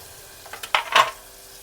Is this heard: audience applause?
no